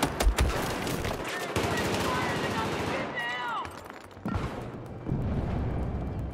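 Automatic gunfire in Battlefield 4 on the Operation Locker map, rapid bursts crackling through a dense, busy battle mix, with players talking over the shooting.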